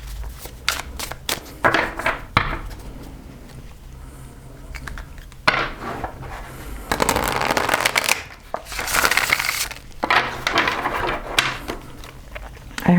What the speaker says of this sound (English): I hope this is not too loud when I shuffle.